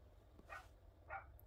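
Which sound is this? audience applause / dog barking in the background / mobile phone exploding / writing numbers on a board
dog barking in the background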